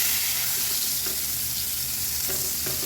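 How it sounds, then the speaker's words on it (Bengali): Brinjal slices frying in oil in a pan, a steady close sizzle with occasional soft scrapes and clinks as pieces are turned over, no talking. "এখন উল্টিয়ে দেবো, অপর পাট ভেজে দেবো।"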